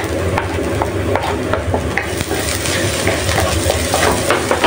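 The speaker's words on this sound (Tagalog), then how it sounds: "Ilagay ko itong ating garlic." Garlic is stir-fried in hot oil in a pan as the base for a chicken, mushroom and broccoli stir fry. A loud, close, continuous sizzle runs under light scraping and stirring clinks, with no speech.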